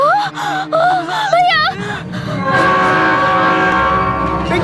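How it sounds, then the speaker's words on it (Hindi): Movie scene of a train approaching on the tracks: a rising rumble and horn-like tones swell in after a dramatic wailing voice and music, loud and close, with the train noise building steadily to the end. "पिंकी, देखो ट्रेन आ रही है, मुझे बचा लो।"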